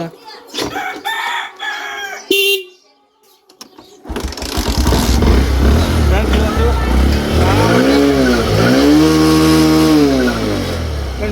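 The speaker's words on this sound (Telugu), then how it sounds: "ఇప్పుడు మనము చాబీ ఆన్ అయిందో స్టార్ట్ అయితే చూద్దాం సెల్ఫ్" A rooster crows nearby, then a motorcycle, its ignition lock bypassed without a key, is cranked with the electric starter, catches, and revs loudly up and down several times.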